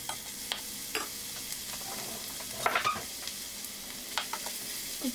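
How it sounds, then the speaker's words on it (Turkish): Onions sizzle steadily in hot oil in a pan, with a few sharp clicks and stirring knocks breaking through the constant crackle. "doğramış olduğum soğanları burada hafif renk alana kadar kavuracağım."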